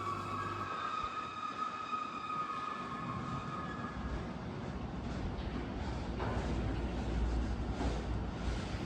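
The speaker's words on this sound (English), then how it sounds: "next up, coming through Barking Station, is the Network Rail Mobile Maintenance Train." A Network Rail Mobile Maintenance Train passes through Barking station with a steady loud rumble, and a sustained horn or siren-like tone sounds at the start before the wagons roll by.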